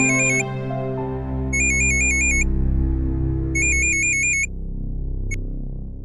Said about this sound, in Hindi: कौन फोन कर रहा है बार बार आपको?